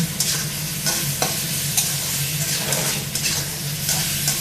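Salted katla fish fries in a pan, a dense, loud, continuous sizzle close by with rhythmic stirring or turning strokes pulsing through it, no talking.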